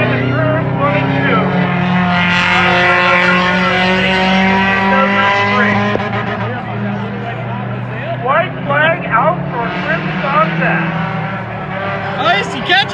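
Race cars, among them a Subaru, roar around the Monadnock Speedway track in a spectator race, engines revving and shifting pitch as they pass, loud and continuous, with an announcer talking over them.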